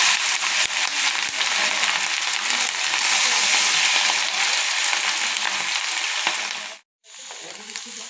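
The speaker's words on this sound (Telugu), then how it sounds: "ఆయిల్ హీట్ అయ్యాక ఇడ్లీలను ఇలా కట్ చేసుకొని వేసేసుకోవాలి" Cut pieces of leftover idli fry in hot oil for a masala idli fry, giving a loud, dense, continuous sizzle that briefly drops out near the end before resuming more softly.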